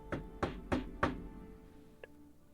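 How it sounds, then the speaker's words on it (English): Four heavy knocks land on a door in an even rhythm, followed by a faint tap, in a quiet tabletop roleplaying game scene. "You knock at the door."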